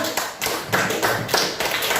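Short burst of applause for a student group in a classroom, a small group clapping briefly and unevenly, nearby.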